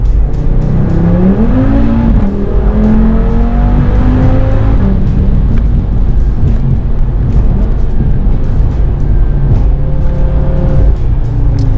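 Audi TT RS-R tuned by ABT with a turbocharged five-cylinder engine making 500 horsepower, a loud, steady engine drone with a rising, shifting pitch early on, heard close and continuous.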